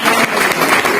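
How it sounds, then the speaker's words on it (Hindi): Students at an academy gathering give a dense, loud burst of applause, a steady close wash of clapping hands welcoming a fellow student. "क्लैपिंग के साथ उनका स्वागत कीजिए"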